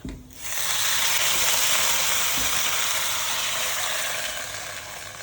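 A hot spice tempering is tipped into freshly cooked tamarind rasam and bursts into a loud, close, continuous sizzling hiss that starts abruptly and eases only slightly as it goes on.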